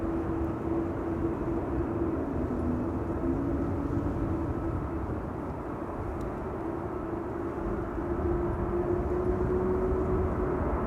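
An aircraft at Amsterdam Schiphol Airport on runway 24 produces a steady, unbroken engine rumble with a faint whine, distant and even in loudness for about eleven seconds, with no speech.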